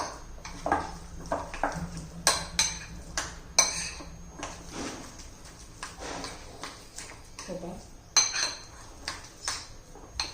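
A spoon mixes sugar and salt into dhokla batter in a bowl, giving uneven, close clinks and scrapes against the vessel with short pauses between strokes.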